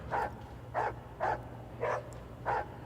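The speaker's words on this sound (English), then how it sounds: "Oh, you're barking at something." A dog in the Warhammer 40K Rogue Trader video game barks five times at an even, steady pace, each bark moderately loud over a low, constant background hum.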